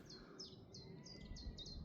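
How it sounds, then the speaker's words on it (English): Small warbler calls in open countryside, a chiffchaff among willow warbler and whitethroat, a run of thin high chirps repeating at a steady pace over soft outdoor background noise. "I've got a chiff-chaff calling as well."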